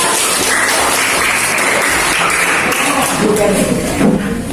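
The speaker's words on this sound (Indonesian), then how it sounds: "Tepuk tangan untuk Cakra." Schoolchildren in a classroom clap for a classmate named Cakra after a song, a loud, dense burst of applause with voices mixed in throughout.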